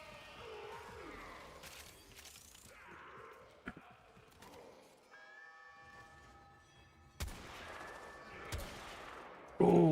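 Scattered gunshots ring out in the video game Warframe, several separate sharp cracks spaced seconds apart over quiet ambient tones, ending with a louder burst.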